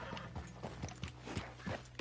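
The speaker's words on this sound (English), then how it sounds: "Oh, we have some wild horses." Wild horses in the mountains of the video game Red Dead Redemption 2 give soft, rhythmic clip-clop hoofbeats, faint and steady over a quiet low hum.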